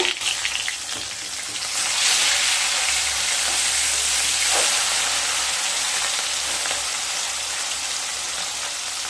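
After being flipped, fish fries on its other side in mustard oil in a wok, making a constant, close crackling sizzle that stays strong throughout with no speech.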